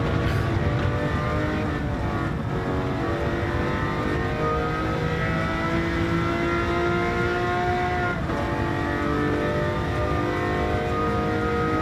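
A fully worked Lamborghini Murcielago with polished ports, in the Gran Turismo 7 racing game, roars at a steady high-revving pitch, loud and constant throughout.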